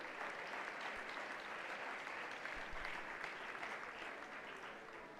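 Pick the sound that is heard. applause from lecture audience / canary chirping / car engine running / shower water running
applause from lecture audience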